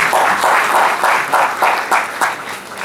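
Steady applause from a sizable academic conference audience of students, dense clapping filling the room at a constant level throughout.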